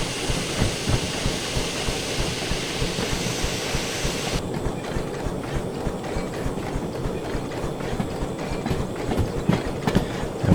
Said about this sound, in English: There's the cylinder cocks now.